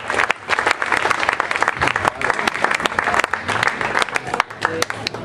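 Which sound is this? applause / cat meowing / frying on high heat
applause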